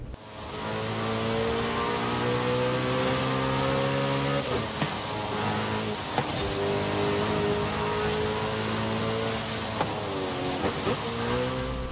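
Several car engines rev and accelerate in a racing video game set on a Mexico map, steady engine drone rising and falling with gear shifts, occasional tire squeal, loud and continuous with no talking.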